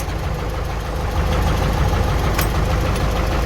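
An old T-74 tractor engine running close by, a steady rough knocking diesel chug that rises slightly as it revs, loud and alone.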